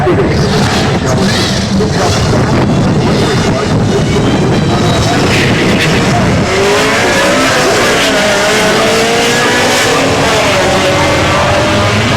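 Drag racing cars at an October meet in Perth, a 4s, 6 and rotary drag wars event, roar loudly and continuously with revving engines, a sharp boom near six seconds and tire squeal, amid crowd and ambient noise.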